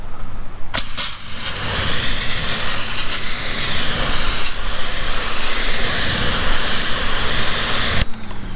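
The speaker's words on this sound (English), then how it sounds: "I'm just gonna spray the wheel in cleaner" Continuous close hiss of wheel cleaner sprayed onto the wheel of an R50 Mini Cooper, a loud, steady rush lasting about seven seconds with a brief break near the start and a cutoff just before the end.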